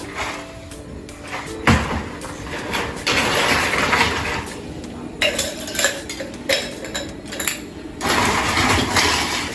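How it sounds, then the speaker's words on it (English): Ice cubes dropped into a glass for strawberry milk, a run of clinks and knocks, some close and sharp, scattered unevenly over several seconds with a faint background hum. "After that, add ice cubes."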